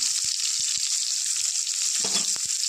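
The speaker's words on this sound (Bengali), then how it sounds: "তেল গরম হয়ে গেছে, পেঁয়াজ দিচ্ছি" Onions crackle and sizzle in hot oil in a kadai, a steady bright frying hiss with a few soft knocks and a brief burst of spattering near the end.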